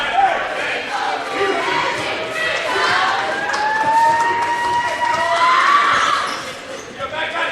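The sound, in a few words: loud basketball crowd during free throws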